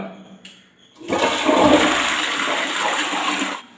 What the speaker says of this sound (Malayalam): ഒന്ന് ഫ്രഷ് ചെയ്ത് കൊടുത്തു കഴിഞ്ഞാൽ ഒന്ന് മഞ്ഞ കറകൾ ഈസി ആയിട്ട് മാറുന്നതാണ്